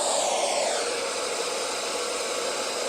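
A portable rechargeable white noise machine plays a steady fan sound, a loud, even hiss with a soft whir that runs unbroken throughout.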